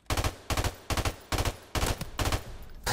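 First-person shooter video game gunfire, six rapid automatic bursts in a row, close and punchy, each a short rattling volley with brief gaps between, no talk.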